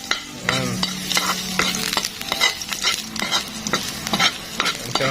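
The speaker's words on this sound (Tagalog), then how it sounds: "Tunog yung mantika. Tunog yung bawang pala." Garlic sizzles in hot cooking oil over a fairly strong flame, crackling loudly and close up, with frequent scrapes and clatters of a utensil stirring the pan.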